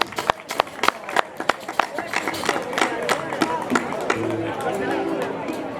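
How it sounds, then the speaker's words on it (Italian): Audience at a local folk music evening breaks into scattered applause, with sharp individual claps at first swelling into a denser clapping and crowd murmur. "Vogliamo fargli un applauso."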